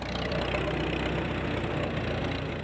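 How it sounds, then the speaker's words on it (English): A 1941 International Harvester W-9 tractor, a big old engine on a weak battery, runs steadily at a low, rumbling idle with a constant knocking throb, close and loud, with no talk. "If I go to start it for you, it grunts a little bit, because that's a pretty big engine"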